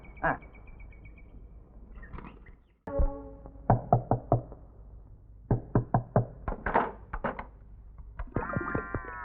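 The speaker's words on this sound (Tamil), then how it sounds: "எவ்வளவு நேரம் தட்டிக்கிட்டு இருக்கேன் கதவு திறக்கவே மாட்டேங்குது" Someone raps on a closed door in several quick clusters of sharp knocks, close and distinct, with brief pauses and other faint sounds between them.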